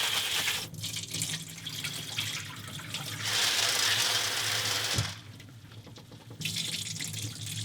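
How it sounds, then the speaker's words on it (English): Dried green peas being washed under a running kitchen tap, water streaming steadily into a bowl with swelling and fading splashes as the peas are rinsed, close and clear without talk. "First, I gotta wash and soak in cold water."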